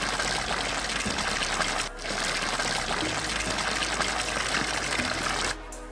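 Shower water runs steadily in a toy playset scene, a continuous broadband hiss with brief dips, loud and close, with no talk.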